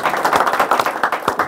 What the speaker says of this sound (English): Everybody clap it up for Akron coming in today.